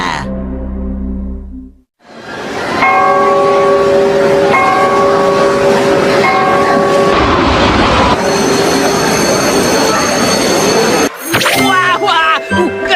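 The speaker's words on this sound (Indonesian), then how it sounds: "Kereta tram Nobita." A cartoon tram rumbles along with loud wheel noise, and a bell rings out in steady repeated tones over it, ending in a few sharper clangs.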